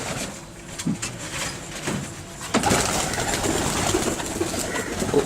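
Pigeons coo softly on a dairy farm in Punjab, a few low calls over steady outdoor background noise, with a brief scrape or knock partway through.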